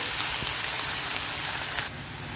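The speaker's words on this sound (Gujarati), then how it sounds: "હવે પાણી ઉમેરી દઈશું" Water pours steadily into a cooking pan of semolina for upma, a continuous rushing splash, close by, then the flow lightens near the end.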